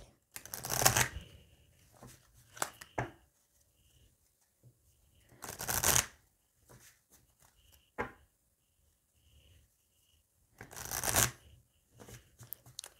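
Tarot cards are shuffled and cut in three quick, close bursts of riffling and flicking, separated by quiet stretches with light handling noises.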